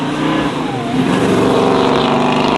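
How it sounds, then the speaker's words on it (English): Loud, continuous V8 engine rumble, deep and throaty, holding steady with a slight rise in revs partway through. "the rumble of the V8"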